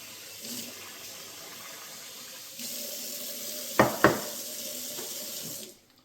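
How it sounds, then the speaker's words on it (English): Chicken wings rinsed under a running kitchen tap, a steady close hiss of water into the sink with two brief louder splashes midway before the flow cuts off. "we're going to start by washing the wings and allow those to sit for about 10 to 15 minutes"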